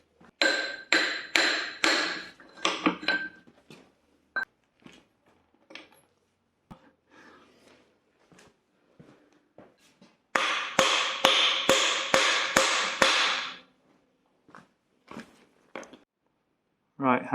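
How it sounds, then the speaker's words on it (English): A bearing in a Saab 9000 2.0 turbo engine being drifted into place with a bar of aluminium stock, sharp metallic taps in rapid close series of blows, pausing between bursts, with talk in the gaps. "I'm going to drift it in with this piece of aluminium stock I've got for the lathe"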